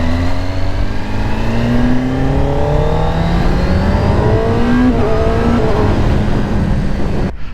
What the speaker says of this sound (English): The 1000 sounds so much better, even with a stock exhaust. It sounds incredible.